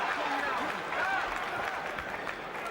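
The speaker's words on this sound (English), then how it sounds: "Applause from the aficionados at ringside." Boxing fans at ringside applaud in a soft, continuous patter from the crowd, largely under a commentator's steady talk.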